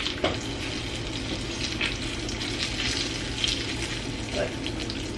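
Food frying in a pan over lowered heat for a budget meal, a steady soft sizzle and crackle with a few faint scrapes and taps, close but fairly quiet.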